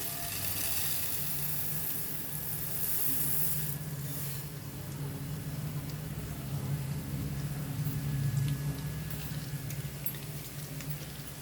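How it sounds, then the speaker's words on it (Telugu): Coriander seeds roasting in a couple of spoons of oil over a low flame, a soft continuous crackle and patter throughout, faint and even, without talk. "ఈ ధనియాలు మంచి స్మెల్ వచ్చే వరకు వేయించుకోవాలండి"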